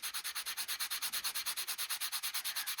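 A sanding block rubs briskly over shaped wire, smoothing tool marks from a wire eighth-note ornament, in a fast, even run of close, raspy strokes with no talk.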